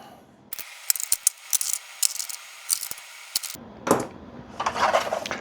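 Screws being driven back into the interior cover of an OEM overhead switch panel in a Jeep Grand Cherokee WK2 or Dodge Durango, heard as a run of close, sharp clicks and ratcheting taps, then a denser rattling burst toward the end.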